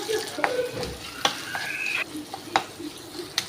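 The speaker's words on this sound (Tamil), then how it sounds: "சின்ன வெங்காயத்தை பொடிசாக இப்படி கட் பண்ணி வச்சுக்கோங்க இப்போ இதில் ஃப்ரை பண்ணிக்கலாம்" Finely chopped shallots fry with cloves and curry leaves for Madurai mutton chukka, a close, lively sizzle and crackle punctuated by several sharp spatula taps and stirring scrapes against the pan.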